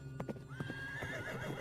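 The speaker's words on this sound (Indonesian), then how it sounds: "sebuah kereta kuda melintas pelan" A horse-drawn carriage with a wooden-wheeled cart passing slowly at night, hooves clip-clopping in an unhurried rhythm close by, with a drawn-out neigh or whinny rising over the steps.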